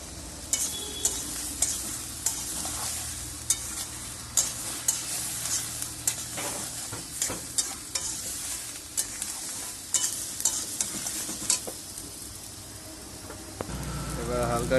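Eggplant and spices with turmeric sizzle in a pan while a utensil stirs and scrapes in repeated sharp knocks, a low frying hiss underneath the clicks.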